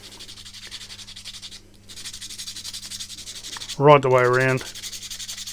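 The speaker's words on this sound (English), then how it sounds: "just give them a little sand, pretty much just across the join there" Continuous rubbing scrape of sanding across the join of a Tamiya Boomerang RC car body, steady and close, with someone briefly speaking over it near the end.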